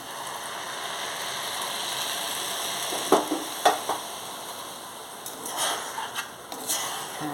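Water splashed into a hot pan of frying kalmi greens sets off sharp sizzling crackles in short bursts, standing out from a quiet, steady background hiss.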